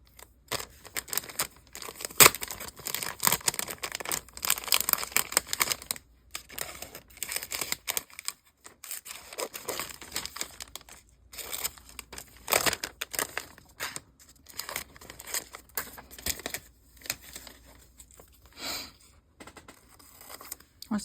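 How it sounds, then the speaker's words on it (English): A paper label cut and peeled off a thick Hobonichi planner, close crinkling, snipping and tearing in irregular bursts with a few brief quiet gaps, and no speech. "I might cut off this label."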